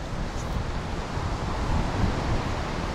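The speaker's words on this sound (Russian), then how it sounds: "а я вам море покажу" Black Sea waves at Sochi wash in a continuous rushing roar, mixed with gusty wind buffeting the microphone, with no one speaking.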